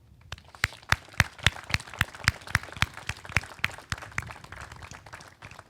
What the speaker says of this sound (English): please join me in a round of applause for this great commissioned officer